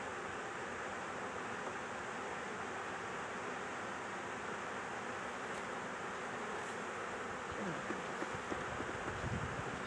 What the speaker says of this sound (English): Yes, some bees.